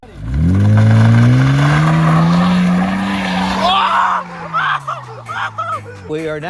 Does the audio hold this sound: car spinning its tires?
yes